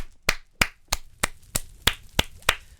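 A single person gives eight steady, evenly spaced hand claps, close and crisp, with no voices or other sound between them.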